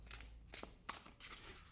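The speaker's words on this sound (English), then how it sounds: "If you want to shuffle this deck, it shuffles really well." A large tarot card deck being shuffled by hand, with several quick, crisp bursts of riffling and slapping cards separated by short pauses, close and fairly quiet.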